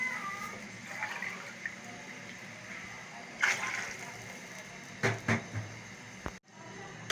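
Plain water poured from glasses into a cooking pot of mutton pulao stock (yakhni), a steady splashing pour with a few sharper splashes near the end; no one speaks.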